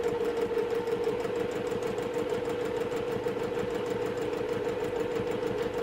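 A sewing machine runs steadily while stitching a quarter-inch seam on a quilt block, giving a continuous, close, rapid mechanical hum and needle rhythm with no talking.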